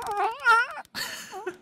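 A calico cat, an unspayed female in heat, meows twice up close: a long wavering cry, then a shorter one after a brief pause, both clear and alone.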